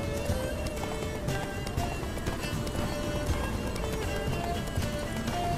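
Roach the horse gallops in The Witcher 3, quick rhythmic hoofbeats drumming steadily over a busy, noisy background, moderately loud and continuous.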